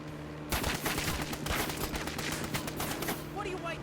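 Rapid bursts of gunfire from an attack run in the video game Repella Fella, dense and continuous for several seconds with short gaps, mixed with game effects and faint voices.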